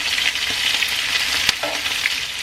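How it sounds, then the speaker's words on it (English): Head-on shrimp fry in hot oil for Mexican-style crispy camarón frito, giving a steady, close sizzle with a few light clinks as the shrimp are flipped. "You want to start flipping them so they all get that frying to them"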